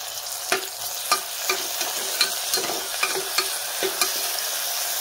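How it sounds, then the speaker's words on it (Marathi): Tomatoes frying in a pan for a spicy pea and bean masala curry, with a steady sizzle under regular scraping strokes of a spoon, about ten distinct stirs, close and moderately loud. "टोमॅटो पण आपण छान मिक्स करून घेऊया"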